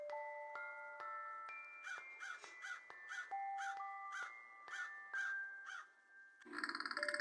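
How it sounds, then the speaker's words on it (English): A crow squawks loudly in a rhythmic series of harsh caws over soft sustained musical tones, ending with a brighter chiming burst in a children's story setting. "Then Inky came into view, squawking loudly."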